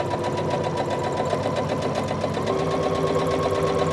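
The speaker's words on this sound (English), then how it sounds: "I'm just going to sew all the way around here." A sewing machine stitches all the way around a skirt waistband casing, its needle running in a steady, fast, even chatter at close range with no voices over it.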